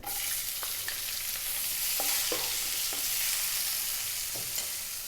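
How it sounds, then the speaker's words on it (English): Chopped onion hitting hot oil with fresh curry leaves and cardamom pods over above-medium heat for a fish curry, a loud steady sizzle with a few soft stirring knocks throughout. "We're going to go in with our onion."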